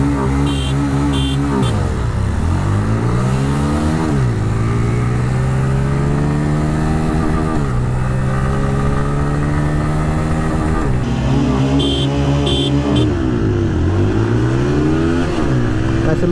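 A Pulsar N160 and an Apache motorcycle rev hard in a drag race, loud and close, their engine pitch repeatedly climbing then dropping with each gear shift over a constant roar.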